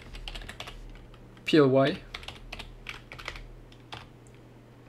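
Quick clicking keystrokes on a computer keyboard while writing code in MATLAB, a steady patter of taps under a man's calm spoken explanation, with one brief louder electronic swoop partway through.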